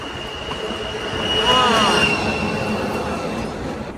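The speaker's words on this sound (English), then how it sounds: "Here comes the other train." A train passing on a mountain railway, a steady rumble of wagons with a high metallic wheel squeal that rises and sweeps in the middle, heard fairly close.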